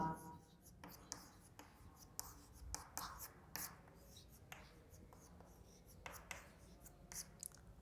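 Pen or pencil writing by hand on paper, drafting an essay outline; close, soft scratchy strokes in short bursts of varying length, with faint voice in the background.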